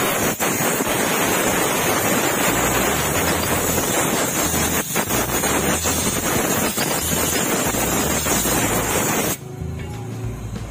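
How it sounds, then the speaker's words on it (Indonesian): Compressed air from an air compressor blasts steadily against a scooter's CVT during cleaning, a loud, close, continuous roaring hiss lasting about nine seconds before cutting off to quieter background. "tadi disemprot pakai angin kompresor"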